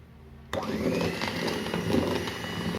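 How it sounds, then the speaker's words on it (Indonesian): An electric mixer switches on abruptly at low speed to blend banana cinnamon cake batter, then whirs steadily and close-up with a faint grinding texture as the beaters churn. "Kemudian kita mixer pelan."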